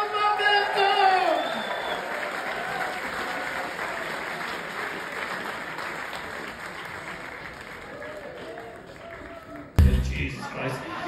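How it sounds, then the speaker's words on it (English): Festival gala audience at the Edinburgh Fringe applauding a performer, sustained loud clapping with scattered whoops and cheers, a voice calling over it at the start, fading somewhat before a sudden cut. "please keep a round of applause going for Mr. Kevin Quantum Momentum!"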